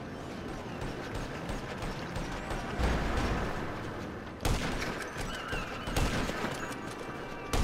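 Dense rapid gunfire crackles continuously with clattering mechanical bursts, a busy Grand Theft Auto V firefight with no voices.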